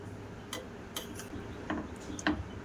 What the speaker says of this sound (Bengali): এবার আমি চামচ দিয়ে এবার একটু কেটে দেখাবো।